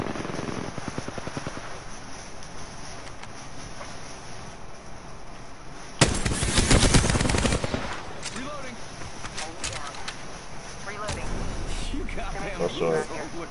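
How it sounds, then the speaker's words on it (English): Rapid automatic gunfire in Apex Legends plays over steady background game noise, with a loud dense burst partway through, further shots afterward and a voice talking intermittently. "Opening fire."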